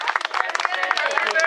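Brief burst of clapping from a small gathering at a garden birthday celebration for a 97-year-old gardener, uneven hand claps mixed with chatter and voices close by.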